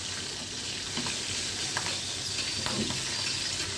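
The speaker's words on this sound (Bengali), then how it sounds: "কাঁচামরিচটা একটু ভাজা হোক" Green chillies sizzle and fry in a pan of oil just after fish has been fried, a steady close hiss running throughout with a few faint stirring clicks and scrapes.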